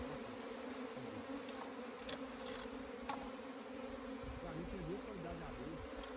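Honey bees around their hive give a continuous soft buzzing drone, faint but steady, with individual bees' pitch rising and falling as they fly near, plus a few small clicks and some quiet voices.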